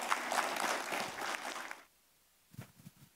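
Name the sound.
audience applause at a lecture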